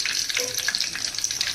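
Mustard seeds and curry leaves crackle and sizzle in hot oil, a dense continuous frying hiss with scattered sharp pops close up, no talking.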